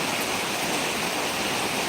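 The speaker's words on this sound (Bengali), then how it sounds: "আপনারা দেখতেছেন যে বৃষ্টি চলছে" Steady rain falling outdoors on a humid morning during a festival day, a dense, even hiss with no breaks, fairly loud and close throughout, with no voices.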